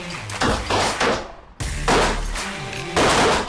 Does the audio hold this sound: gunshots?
yes